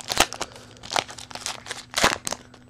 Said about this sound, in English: I just stopped trying to open these without scissors.